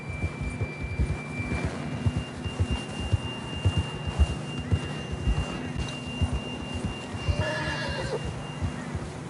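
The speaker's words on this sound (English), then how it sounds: "John was riding that horse when we left Blackwater" In the video game Red Dead Redemption 2, a horse whinnies near the end over a steady rhythmic clip-clop of hooves, with a low hum of game ambience underneath.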